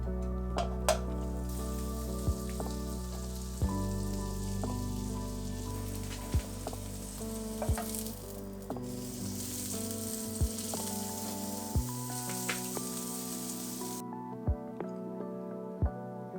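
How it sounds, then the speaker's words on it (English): Small piece of foraged lion's mane mushroom frying in butter in a pan, giving a steady close sizzle with scattered pops and crackles, while music plays throughout. "I was confident of frying a little piece with butter and trying some lion's mane mushroom for the first time."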